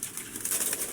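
Pigeons in a loft cooing softly, with a brief flutter of wings in a short, fairly quiet moment and no talk.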